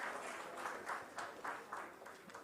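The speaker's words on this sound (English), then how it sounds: "Let's have a huge round of applause for him" Applause from a summit audience greeting a panelist at a maritime regional conference, steady clapping from a crowd with soft rhythmic swells, moderately distant and fairly quiet.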